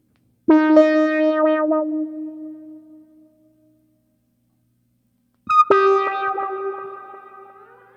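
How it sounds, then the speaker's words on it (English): Two Omnichord OM-84 synthesizer notes ring out, each trailing into echoing delay repeats and a reverberant tail that fades away; no talking. "I get to delay and reverb."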